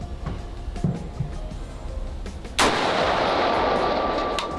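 A single sharp rifle gunshot cracks out loud and close during a comparison of LPVO scopes, followed by a long echoing outdoor decay, preceded by quiet background handling noise.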